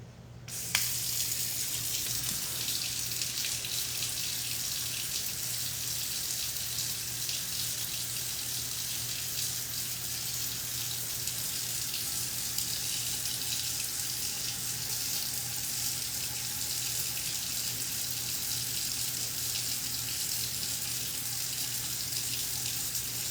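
A water tap running steadily: a continuous bright hiss of flowing water lasting over twenty seconds, close and even, with a faint constant low hum underneath and no talking.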